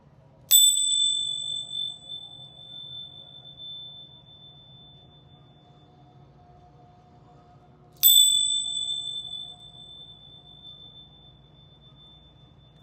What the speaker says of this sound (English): I am going to ring my bells quickly and say a quick prayer